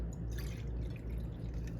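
Alcohol poured into a measuring cup for soaking a Barbados fruit cake, a soft, steady trickle with faint drips, quiet and close with no talking.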